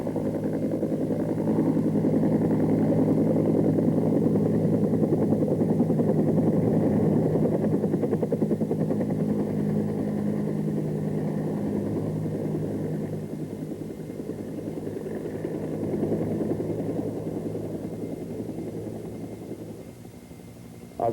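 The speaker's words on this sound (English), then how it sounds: "A running takeoff allows a heavily laden Cobra to develop translational lift through forward speed before takeoff." Bell AH-1 Cobra attack helicopter, heavily laden, making a running takeoff: a steady, loud turbine whine and rotor drone that holds for about twenty seconds, easing slightly toward the end, with no voices.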